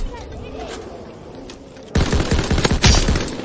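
Gunfire erupts in a Call of Duty match: a few scattered shots, then a sudden loud burst of rapid automatic fire with sharp reports in the second half.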